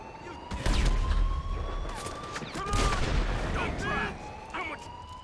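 Rapid bursts of tank gunfire in GTA 5 thunder out in several loud volleys with deep booming impacts, while someone talks excitedly over the shooting.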